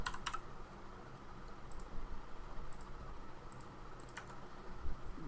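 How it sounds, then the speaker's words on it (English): Faint, quiet computer keyboard typing: a few short bursts of key clicks spaced across several seconds over a soft room hum. "Let's type in motions."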